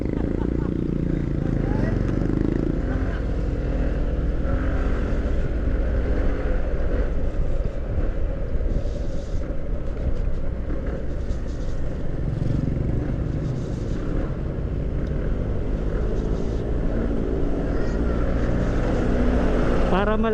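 A vehicle engine runs hard during a test run of a newly fitted two-row radiator, checked for bursting hoses or a popping radiator cap: a steady, loud, low roar with wind-like rumble and voices talking over it.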